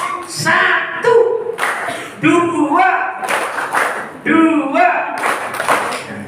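An audience at an Islamic religious gathering claps together in short rhythmic bursts, loud and close, alternating with someone speaking between the claps.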